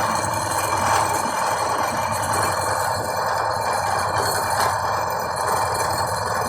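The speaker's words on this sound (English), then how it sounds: "Carbide face mill, I sharpened the carbide inserts myself, just on the grinder" A carbide face mill with hand-sharpened inserts cuts 4140 steel, making a steady, continuous grinding, chattering drone with a low rumble that holds evenly from start to finish without pause.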